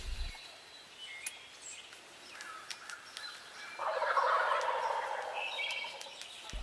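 Wild turkeys gobbling on the roost at dawn, a fairly faint, distant rattling gobble that swells into a louder burst partway through, surrounded by quiet morning air and scattered bird chirps.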